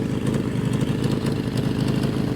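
A Suzuki GS650GL motorcycle engine runs steadily at idle up close, a continuous low throbbing rumble with no talk over it.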